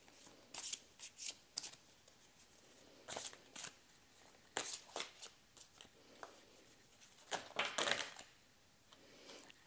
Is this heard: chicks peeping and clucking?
no